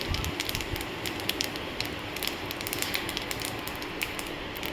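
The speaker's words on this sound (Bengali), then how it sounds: "তেলের মধ্যে তেজপাতা দিলাম আর দিলাম সাদা জিরে" Bay leaf and white cumin seeds sizzle in hot oil, a dense continuous crackle with sharp spits and pops scattered throughout, close and steady.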